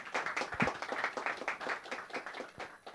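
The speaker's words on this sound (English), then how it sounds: "I think we have a round of applause for Dr. Chen for sharing." An audience at a club breakfast claps steadily for about three seconds, a dense patter of many hands at moderate loudness with no voices over it.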